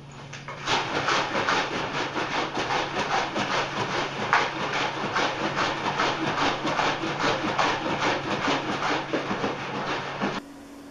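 Cellucor cinnamon swirl protein powder sloshes in a shaker bottle, a fast, even rhythm of loud rattling shakes that carries on close up for about ten seconds before stopping.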